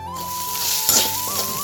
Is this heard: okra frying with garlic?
yes